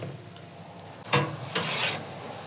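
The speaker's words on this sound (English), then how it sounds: "Okay, so the fish has been cooking for 5 minutes." Gurnard fillet frying in a pan, a soft continuous sizzle with a brief louder crackling burst partway through, close and alone.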